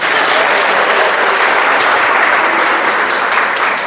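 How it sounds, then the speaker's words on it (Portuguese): A church congregation applauding during a sermon, loud, close and continuous clapping from many hands, steady in level throughout. "Você pode aplaudir de novo?"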